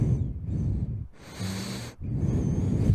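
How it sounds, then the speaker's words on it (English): Heavy breathing in a quiet room, close and audible, with a couple of rasping inhales and exhales separated by short pauses, no talking over it. "That breathing in the background?"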